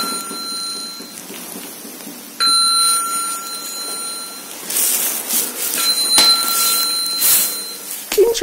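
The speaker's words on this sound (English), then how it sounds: "the lifts still chime on the abandoned store side" Electronic lift chimes ring out in an abandoned store: sustained bright tones sound repeatedly, starting and stopping abruptly, over a hollow, noisy background with a few faint knocks.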